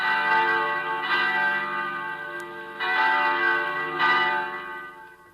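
Loud church bells ring in slow succession in a radio drama, each strike blooming into a long, resonant, overlapping hum that fades between chimes.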